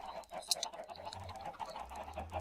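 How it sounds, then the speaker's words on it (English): Chickens in the Minecraft video game cluck faintly in a few soft, scattered calls over a quiet background. "So now, I want to kill these chickens"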